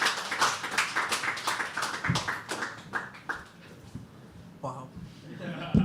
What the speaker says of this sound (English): Can we please have a round of applause for Krishna?